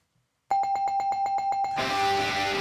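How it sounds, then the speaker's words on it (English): A ringing bell sound effect, a rapid run of about ten evenly spaced metallic dings that swell into a sustained bright ring, loud and alone, used in a wrestling review show. "I'm going to give that the bell."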